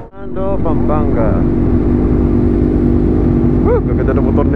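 Several big bikes, including a Suzuki GSX-R600 2004 and a Honda CB650, rumble together on a Zambales charity motocamp group ride, a steady loud engine drone with brief revving swells, while people talk and cheer over it.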